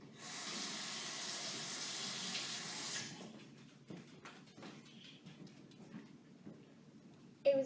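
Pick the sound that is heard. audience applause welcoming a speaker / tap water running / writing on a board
tap water running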